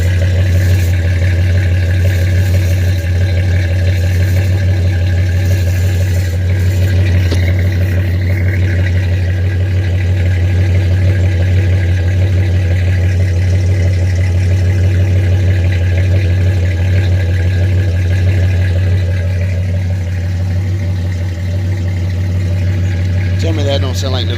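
Chevrolet S10 with a swapped 2.8 V6 and Flowmaster 40 series exhaust idles with a deep, steady low rumble for the whole stretch, loud and even, while someone talks over it.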